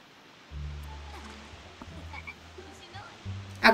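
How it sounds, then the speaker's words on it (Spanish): Frog croaking while being fished from water in The Sims 4 on a tropical island, several low, buzzy croaks repeating in short bursts over soft ambient water sounds, with a brief splashy burst at the end. "Y ahora pues va a pescar ranas."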